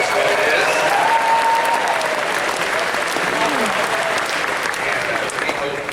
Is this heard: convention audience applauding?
yes